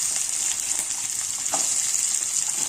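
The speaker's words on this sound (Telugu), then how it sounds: "వేసుకొని బాగా ఫ్రై చేయాలి" Mustard seeds, cumin and carrot fry in a pan, giving a constant, fairly soft, high-pitched sizzle with faint crackles and occasional stirring, heard up close with no one speaking.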